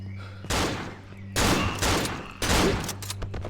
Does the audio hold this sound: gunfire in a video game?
yes